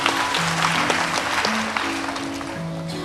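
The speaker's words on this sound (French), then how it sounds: "Merci de l'applaudir, s'il vous plaît" Audience applause for a contestant at a spelling competition final in Benin, a dense steady clapping that fills the room, fairly loud, with tonal background sounds underneath.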